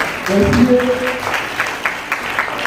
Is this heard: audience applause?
yes